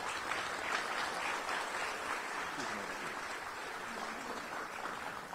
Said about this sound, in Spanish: Fuerte los aplausos a nuestro Creador.